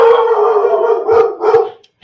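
A dog howls up close in a loud drawn-out wail, then gives two shorter rising yowls before falling quiet.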